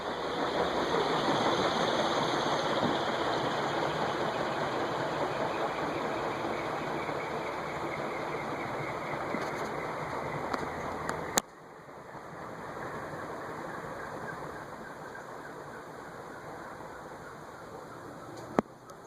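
Envirofan Silver Line model 60F-9 industrial ceiling fan from about 1990, spinning down with a broad, steady whooshing roar and hum that drops sharply partway through into a softer whir, with a couple of faint clicks.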